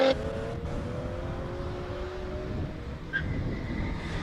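2006 BMW 330 E90 race car with a normally aspirated six-cylinder engine accelerating up a hillclimb course, a sustained engine drone with rising tones, steady and moderately distant, with no talk.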